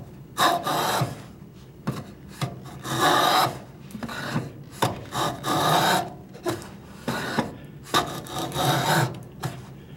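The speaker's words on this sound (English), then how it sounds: "It takes these, it shaves off these long, thin strips of wood like this, these curly cues like that" Jack plane shaving a rough wood surface, a series of close, scraping strokes in irregular bursts, each a short rasping swish with brief pauses between, and no voices.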